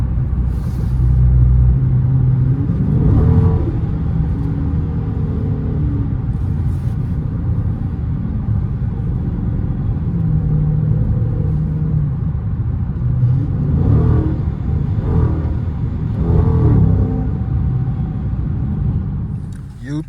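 Dodge Charger R/T on its stock exhaust rumbles steadily while driving through traffic, with a low, continuous engine drone and a few brief swells of revving throughout.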